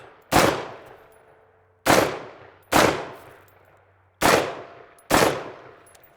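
Five loud, sharp rifle shots fired one-handed at targets, spaced irregularly about a second apart, each with a quick decaying echo and no talking.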